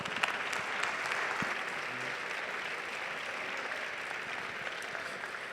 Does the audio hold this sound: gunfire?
no